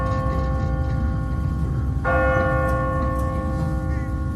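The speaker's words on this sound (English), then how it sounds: "No one's ringing that bell. It's automatic. On a timer." An automatic church bell on a timer rings in The Walking Dead video game, a single loud bright strike partway through with a long ringing decay over a constant low background rumble.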